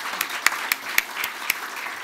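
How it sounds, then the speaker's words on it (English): An audience applauds to welcome a panel of photography experts at a talk, a brief spell of scattered, moderately close clapping with a few sharp individual claps standing out. "I would like to welcome them with a show of applause."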